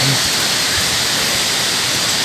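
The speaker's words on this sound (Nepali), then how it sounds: "अब यहाँनिर एउटा खोला छ" Steady, full-bodied rushing water from a nearby stream, a constant broadband roar with no talking.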